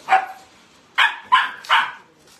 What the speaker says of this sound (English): That puppy's not happy.